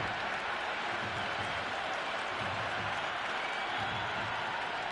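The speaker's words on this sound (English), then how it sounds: "The crowd is electric right now." Stadium crowd noise from the Cricket 26 video game, a steady distant roar of cheering and clapping that holds evenly throughout.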